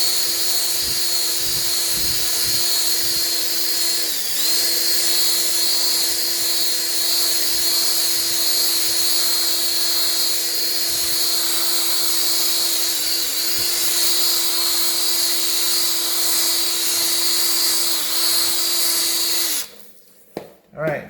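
Steady, close whirring hum of a cleaning machine fitted with a round-edge attachment scrubbing a luxury vinyl plank floor, running nearly unbroken with small dips before cutting off near the end.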